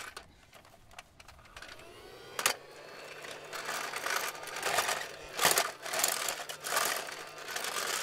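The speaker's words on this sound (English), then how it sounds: "Come on, it's supposed to work like a real vacuum." A Casdon toy Dyson DC24 vacuum cleaner runs with a steady, whirring motor hum that rises and falls over several seconds, broken by a few sharp clicks and rattles from the toy's plastic body.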